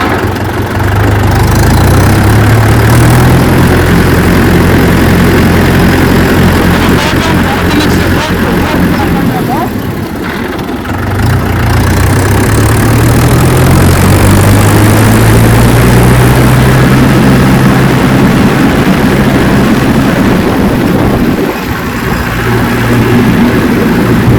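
A tractor engine throttled up as power is applied while pulling away, a loud, steady low drone rising and falling in pitch, with someone talking over it nearby.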